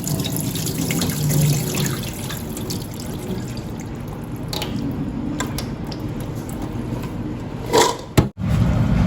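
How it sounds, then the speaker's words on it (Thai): Tap water runs steadily into a sink while fresh chestnuts are rinsed clean by hand, a continuous splashing flow with a brief sharper splash and a momentary break near the end. "เปิดน้ำล้างก่อนนะคะล้างทิ้งสกปงกออก"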